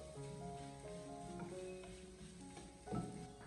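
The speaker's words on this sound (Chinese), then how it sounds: "我们再继续的用锅铲将它翻炒一下，将食盐给它翻炒至充分的化开" Green chili peppers sizzle steadily in a wok over medium-low heat as a spatula stirs them with salt, a continuous close frying hiss with a soft scrape near the end.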